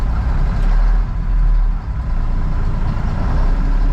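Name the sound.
truck engine running in first gear high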